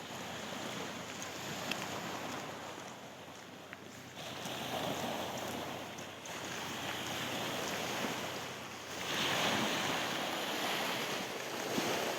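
Waves break and wash ashore in slow surges, swelling and fading over a steady rushing background, with light wind noise.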